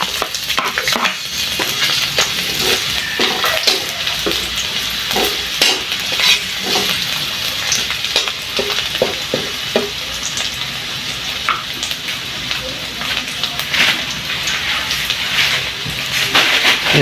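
Garlic and onion fry in hot oil in a pan, sizzling loudly and steadily throughout, broken by intermittent scraping and stirring clatter. No speech.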